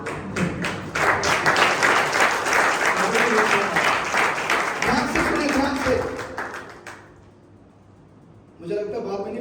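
A church congregation claps steadily and loudly for several seconds, then falls quiet before a voice and further sound return.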